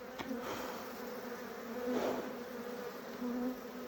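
Honey bees drone around an open hive during an October inspection, a faint steady buzz with a few individual bees swelling louder as they pass close.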